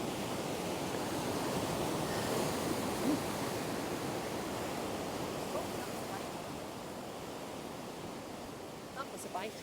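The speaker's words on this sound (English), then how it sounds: "The size of them waves now." Large sea waves break along the shore at Collywell Bay, a continuous soft wash of surf under blustery weather, fairly faint and distant with no clear individual crashes.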